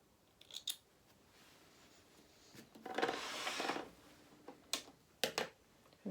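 Scissors snip threads after sewing a fur doll head, quiet sharp clicks in small clusters with a soft rustle of handling between them.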